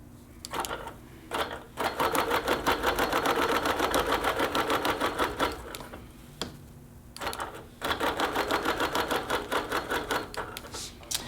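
A sewing machine runs in rapid even stitching bursts while basting down a quilt top, two long runs separated by brief pauses, close and alone.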